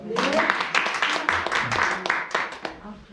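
A seminar audience at a business group centre in Busan claps for a guest speaker, a brief burst of dense, sharp claps with a voice talking over them throughout.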